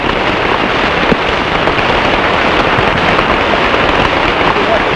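Heavy rain falls continuously at a road-building camp in the jungle, an even, close wash of drops and hiss with no pauses.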